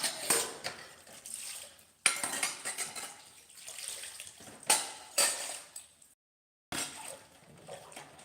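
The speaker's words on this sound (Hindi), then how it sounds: "आवाज मत करो यार, बर्तन।" Metal pots, pans and cutlery clatter and scrape at a sink with running water, in bursts of clinks and knocks close by, with one brief silent gap.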